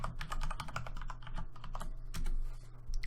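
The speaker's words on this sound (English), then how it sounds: "So we're just typing in the third line now." Rapid, continuous typing of a git command on a computer keyboard, dense clattering keystrokes close up with a brief pause before a final burst.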